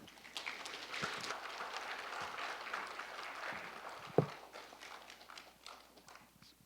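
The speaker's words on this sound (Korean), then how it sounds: "뜨거운 박수로 환영해 주시기 바랍니다." An audience claps to welcome a lecturer at a Korean academy talk, a dense patter of many hands that swells and then gradually fades, with one sharp knock partway through and no voices.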